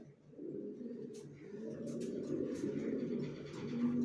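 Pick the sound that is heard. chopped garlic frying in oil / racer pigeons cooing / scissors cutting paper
racer pigeons cooing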